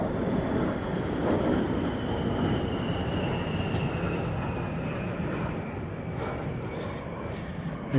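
Military aircraft passing overhead above the Pennsylvania section of the Appalachian Trail, a steady broadband roar that stays loud and continuous throughout, with a faint high whine drifting slowly downward and a few short ticks on top.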